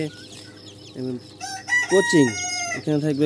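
Golden Sebright and red silkie chickens cluck loudly nearby while a rooster crows in a few strident bursts, with scattered short calls between them and no talk.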